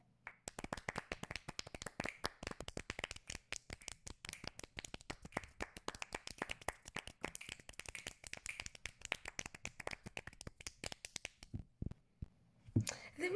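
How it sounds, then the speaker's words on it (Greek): Crisp hand claps come from a small group, sounding close and fairly quiet, as a fast irregular run that grows thinner and breaks into a few scattered claps near the end. "Μ' άρεσε αυτό το χειροκρότημα"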